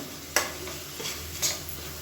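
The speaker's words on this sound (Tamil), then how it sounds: "இந்த மாதிரி எண்ணெயில் வதக்கிட்டோம்னா நல்லாயிருக்கும்" Onion paste and mint being sautéed in oil for a Tamil-style chicken kulambu, a soft steady sizzle with two brief scraping stirs of a spoon against the pan.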